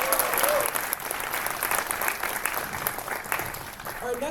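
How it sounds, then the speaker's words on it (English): Applause from a jazz club concert audience for the vocalist and soloist, a dense burst of clapping that starts loud and gradually eases off, with faint voices mixed in. "Let's give another round of applause for Mathilde, our vocalist and our soloist."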